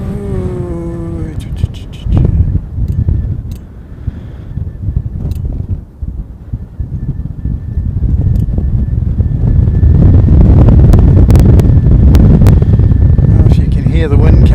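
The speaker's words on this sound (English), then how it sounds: "If you can hear the wind coming through the microphone, that gives you an indication of just how windy it is." Gusty wind pounds a microphone outdoors while plane spotting in Christchurch, a rough low rumble that builds to a loud, sustained roar, with someone talking over it early on.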